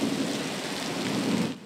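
Steady heavy rain pours down through a thunderstorm, with a low rumble of thunder rolling beneath the dense hiss of the downpour before it cuts off abruptly.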